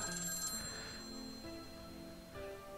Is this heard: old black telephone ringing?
yes